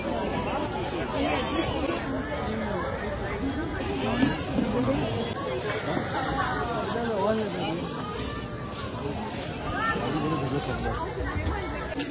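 Steady crowd chatter and hubbub fill a busy market street in Mahabaleshwar, many overlapping voices close by without pause throughout.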